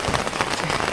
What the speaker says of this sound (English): Rain is not going to stop us today.